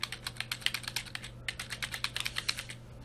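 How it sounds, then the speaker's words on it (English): Rapid keystrokes on a computer keyboard as dummy text is typed, close and crisp in a steady uneven rhythm with a brief pause partway through, alone over a low hum. "I just will write some dummy text."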